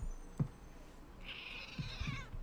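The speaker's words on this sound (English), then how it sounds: "That's my cat saying hello." A cat gives a single drawn-out meow, fairly close but soft, amid a few faint knocks and quiet room sound.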